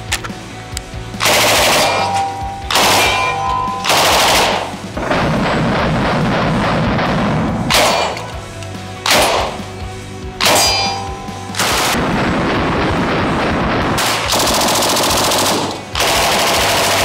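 An RPD light machine gun fires 7.62x39 rounds outdoors in loud, close bursts of rapid automatic fire with short pauses between strings, several bursts over about seventeen seconds, with no talking.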